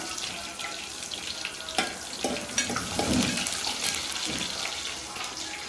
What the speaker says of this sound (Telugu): ఇవి కొంచెం వేగాలండి బ్రౌన్ కలర్ వచ్చే వరకు